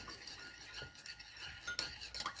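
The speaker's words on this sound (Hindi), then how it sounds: "इस सॉस को हम अच्छी तरह से मिक्स करते हैं।" Sweet and sour sauce is stirred in a bowl or pan, with faint soft scraping and a few light metallic clinks of a spoon against the container, quiet and close.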